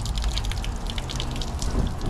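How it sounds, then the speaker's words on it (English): Water runs from a partly opened outdoor standpipe, a steady close splashing and trickling with some dripping throughout the short stretch. "All right, so a standpipe, we're gonna open it a bit, let the water run."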